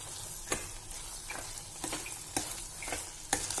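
Broken wheat sajjige with cashews and cardamom stirred in a pan on the stove: a spoon scrapes the pan in a steady series of sharp strokes over a soft, continuous sizzle, close and fairly quiet, with no talking.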